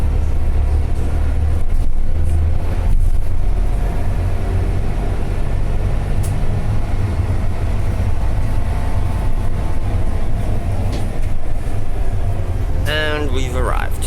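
Steady engine rumble and road noise inside a moving Adelaide Metro city bus, with occasional rattles and a brief beeping chime near the end.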